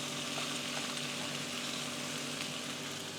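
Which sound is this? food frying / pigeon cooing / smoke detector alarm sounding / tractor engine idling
food frying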